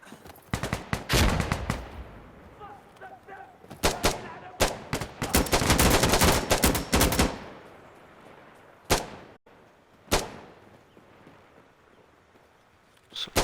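Automatic rifle fire in the shooter Insurgency: Sandstorm on Xbox Series X/S: dense, loud rapid bursts for the first several seconds, then scattered single shots and short volleys with quieter gaps between them.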